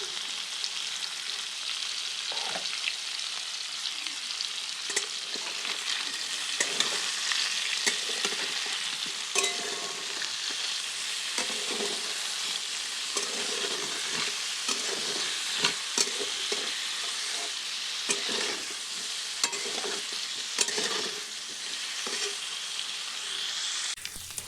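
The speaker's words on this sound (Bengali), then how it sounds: "পনিরটি এখানে দেখছো হালকা লাল লাল করে ভাজা হয়ে গেছে।" Paneer pieces fry in a pan with a sprinkle of salt, for a vegetarian white paneer dish, giving a steady close sizzle broken by scraping stirs throughout, with no talking.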